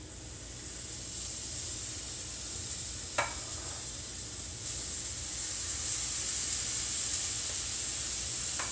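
Pancake batter sizzling in a heated skillet for chocolate peanut butter protein pancakes: a steady, close, bright hiss that grows slightly stronger over time, with a couple of faint clicks and no talking.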